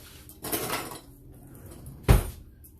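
Gravy seasonings being mixed in a cup with a utensil, heard as a brief scraping burst and then one sharp clink against the cup, close and fairly loud in a quiet kitchen.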